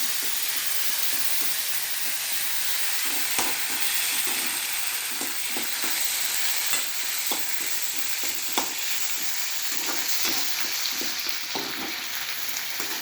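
A generous handful of curry leaves crackles and hisses in hot oil for an avil mixture, a constant bright sizzle close up with occasional scrapes and taps of a stirring spoon.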